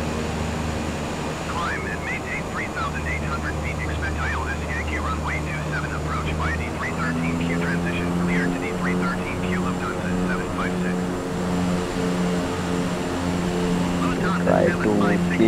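A plane's engines drone steadily while it comes in to land on a runway in Microsoft Flight Simulator, on a local flight over Mumbai, with layered tonal hums and some busy higher chatter throughout.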